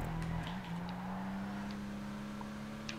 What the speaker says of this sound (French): Ouah, ça drift, hein, ça drift.